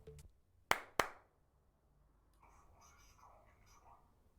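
Two sharp hand claps close together near the start, followed by quiet, faint murmuring voices in a near-silent room.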